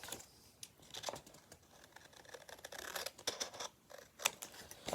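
Scissors trimming paper for a journal, a quick series of crisp snips and rustles of paper, close and quiet, with no talk.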